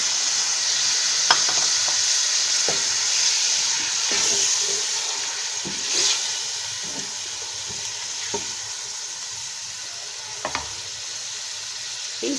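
Ginger garlic paste sizzles steadily while frying in a pan for a chicken and mixed vegetable dish, with scattered clicks and scrapes of stirring over the continuous hiss and no speech.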